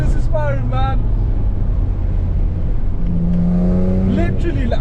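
A supercharged 2010 Audi S4 B8 quattro accelerates hard, its engine note rising in steady sweeps and settling into a droning hum, loud and close throughout while someone talks excitedly over it.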